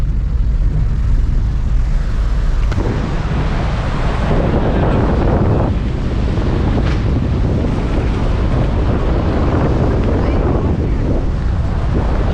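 Loud, steady rushing roar of the fast-flowing Mandakini mountain river near Sonprayag on the Kedarnath route, heavily buffeted by wind gusts hitting the microphone, continuous throughout.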